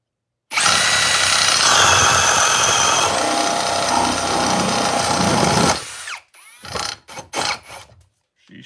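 A cordless drill in speed 2 drill mode, running on a half-charged battery, whirs loudly and steadily for about five seconds, then stops, followed by a few short bursts and clicks.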